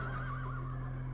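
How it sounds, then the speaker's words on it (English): A horse neighs in a single sustained whinny with a wavering pitch, heard alone against a steady low hum and no talking. "Horse."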